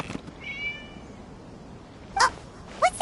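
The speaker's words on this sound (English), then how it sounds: "It was just a cat." A cat meows in a video game, a drawn-out call followed by two short separate meows, clear and close against a quiet background.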